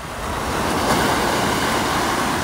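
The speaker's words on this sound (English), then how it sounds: "These are little baby waves." Small ocean waves break at Cabo, a close, loud, continuous wash of surf that swells slightly and holds steady, with wind noise and no voices.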